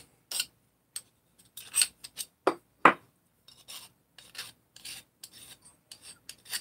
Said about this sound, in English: deburr it